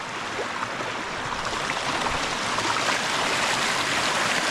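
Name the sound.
water flowing through a broken beaver dam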